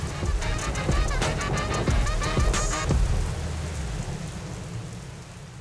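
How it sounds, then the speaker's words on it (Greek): Steady rain falls on a Berlin street, a dense close hiss with scattered drop patters and a few sharper splashes, continuous and fairly loud throughout with no talking. "Κλασικός βερολινέζικος καιρός, βροχή και κρύο."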